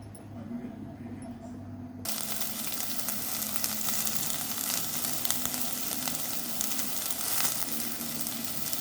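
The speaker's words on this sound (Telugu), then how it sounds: "పోపు చేసుకుంటున్నాండి" Cumin tempering in hot oil for a bottle gourd curry: after a quiet start with a faint low hum, a loud, steady crackling sizzle bursts in and keeps going.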